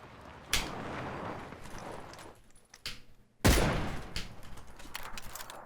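An MG3 machine gun fires in a video game, with a sharp close burst followed by a louder, heavier burst a few seconds later, and a rattling echo tailing off after each.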